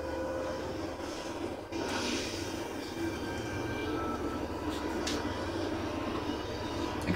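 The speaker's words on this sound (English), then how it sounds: "Escort train to town." A moving train in Borderlands 2 rumbles steadily and loudly throughout, a continuous low mechanical roar with hissing and clanking above it and brief louder bursts.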